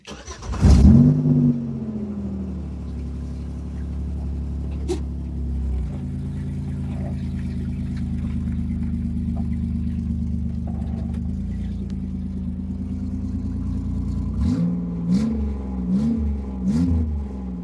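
A 3.4-liter V6 in a Pontiac Grand Am, its exhaust cut off at the bend after a piece of flex pipe, starts with a burst and settles into a loud, raspy idle. It ends with a series of sharp revs close by.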